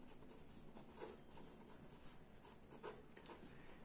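A pen writes index numbers on paper by hand, faint soft scratchy strokes in short bursts, close and quiet against a low background hiss.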